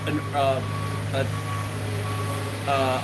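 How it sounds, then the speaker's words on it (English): A road paving machine reverses along a street, its repeated backup beeps sounding in short bursts over a steady low engine rumble, with people talking nearby. "They have driven this paving machine up and down the road 3 or 4 times."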